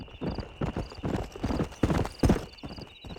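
A stallion's hooves clip-clop at a brisk, uneven gait on a dirt path in the video game Red Dead Redemption, close and clear, with the horse giving a brief whinny.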